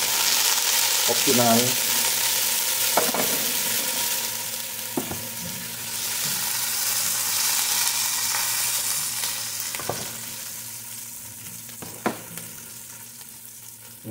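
Crushed garlic and chili sizzle steadily in hot oil for a Filipino sautéed mung bean dish, with occasional clinks of a utensil stirring the pan and brief speech in the background.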